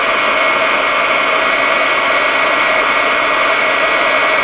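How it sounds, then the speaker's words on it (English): A heat gun blows steadily on embossing powder during polymer clay crafting, a loud continuous rushing whir with a hissing airflow, unchanging and close, with no talking. "Alright, heat your heat gun up off to the side."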